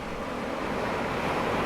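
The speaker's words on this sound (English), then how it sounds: "Waves are crashing well, quite a bit of surf today." Winter surf breaks steadily on the shingle beach at Southsea, a dense, continuous roar of waves and rushing water with wind, close and loud, with no voices.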